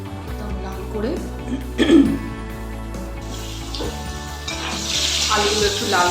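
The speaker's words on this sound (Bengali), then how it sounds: "আলুগুলো একটু লাল করে ভেজে দিয়ে" Potato pieces frying in hot oil in a pan, in the same oil just used for boal fish: a soft sizzle that grows fuller and steadier in the second half, heard beneath a sustained tonal background.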